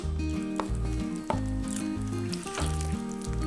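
Chicken leg pieces hiss and sizzle in a clay pot of masala for chicken dum biryani, a steady frying crackle running under louder background music with no talking.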